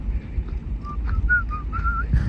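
Someone whistles a short, wandering tune of clear sustained notes over a low, steady background rumble, with no talking.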